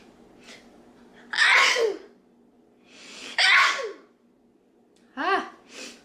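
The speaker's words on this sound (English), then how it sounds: "I have to sneeze." Three loud sneezes burst out in turn with short pauses between them, each sharp and close, preceded by faint breathy intakes.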